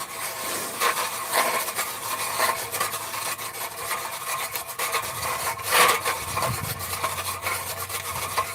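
A hand auger bores down through ice, making rough, continuous grinding and scraping strokes with uneven bursts of louder crunching, close by.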